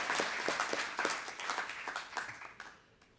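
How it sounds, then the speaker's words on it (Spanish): An audience at a presentation applauds in a steady burst of clapping that fades out after a few seconds, moderately distant, with no one speaking. "Otro aplauso, por favor"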